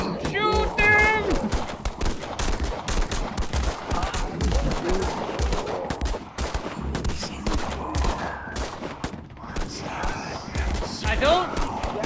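Rapid bursts of video game gunfire crackle nearly continuously, like machine guns and scattered shots, while players talk over the action.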